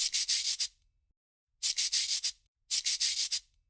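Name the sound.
hand sanding with fine wet sandpaper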